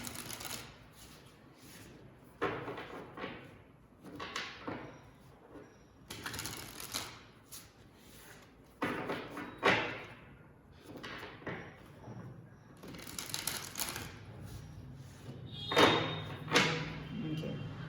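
Tarot cards shuffled and drawn by hand in a quiet room: repeated soft riffling, slapping and sliding bursts of varying length, close and moderately loud, with short pauses between handfuls.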